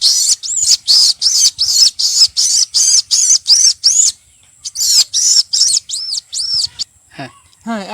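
A man imitates a myna's call with about a dozen rapid, evenly spaced, shrill whistled notes, close and loud, then a short break and a few more chirps ending in lower chattering squawks.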